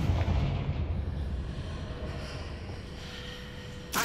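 A Confringo fire spell explodes in the Hogwarts Legacy video game, a rumbling burst that fades into a long roaring decay, with a sharp crack near the end.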